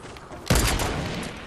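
Sniper rifle shot in the Fortnite video game: a single loud, sudden blast followed by a long rolling echo that slowly fades.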